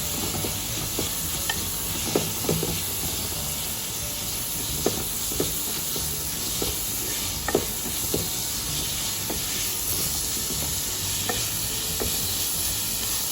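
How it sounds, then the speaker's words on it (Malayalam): Four medium onions, thinly sliced, sauté in coconut oil for Malabar-style stuffed chicken. A steady hissing sizzle runs throughout, punctuated by regular clicks and scrapes of stirring nearby. "അത് ആദ്യം വാട്ടിയെടുക്കാം."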